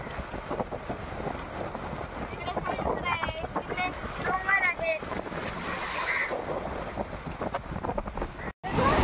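Strong wind buffets the microphone at the seashore of Harihareshwar on the Konkan coast, a steady loud rush mixed with surf that runs the whole time beneath a man's speech.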